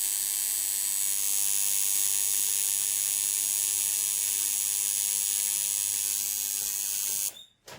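A rotary tattoo machine, plugged in without changing the voltage, runs with a steady, high-pitched electric whine and hum, continuous and close, cutting off abruptly at the end.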